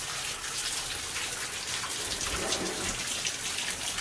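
Water pouring from a hole behind a metal sheet at an abandoned gold mine, a steady close splashing hiss that runs unbroken throughout with no voices.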